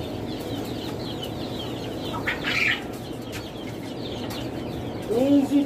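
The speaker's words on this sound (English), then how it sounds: "And the chickens will eat the food and scratch the poo-poo into the ground." Chickens cluck and chatter softly close by over a steady noisy background, with a brief voice near the end.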